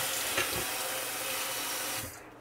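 Water running from a tap or being poured into a raw-food meal for an Alaskan Malamute, a steady splashing stream that cuts off near the end, leaving quiet.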